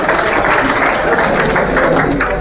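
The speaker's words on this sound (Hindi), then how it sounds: "जोरदार तालियों से स्वागत किया जाएगा।" Loud, sustained audience applause welcoming a professor at a seminar hall, dense clapping from many hands, close and even throughout with faint crowd voices beneath.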